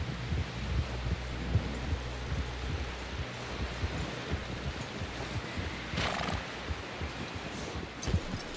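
A horse in Red Dead Redemption 2 neighs and whinnies while its hooves clop steadily underneath. A busy rustling backdrop continues throughout and a louder whinny rises near the end.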